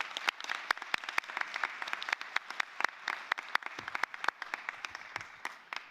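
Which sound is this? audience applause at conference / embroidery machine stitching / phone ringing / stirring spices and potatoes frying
audience applause at conference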